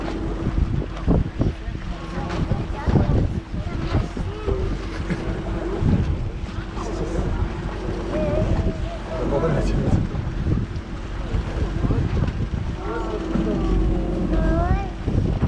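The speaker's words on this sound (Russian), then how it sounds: "Нет, здесь ветрено." Seaside wind gusts steadily into the microphone, a continuous rough rumble that swells and eases throughout, with people talking nearby and faint boat and water sounds underneath.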